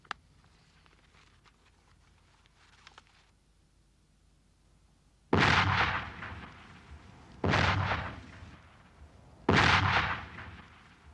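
High-explosive artillery shells fire and burst in three loud, separate booms a couple of seconds apart, each with a broad rolling tail, following a quiet stretch with faint background crackle.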